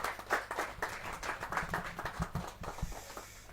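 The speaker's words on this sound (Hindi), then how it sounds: "जोरदार तालियों के साथ।" Audience applause at a Hindi kavi sammelan poetry gathering: dense, steady crowd clapping that sustains for several seconds at moderate level, with no talk over it.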